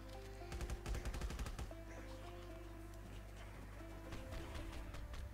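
Rapid gunfire while shooting zombies in the video game Death High, with dense bursts of shots over steady game music and effects, loudest early on.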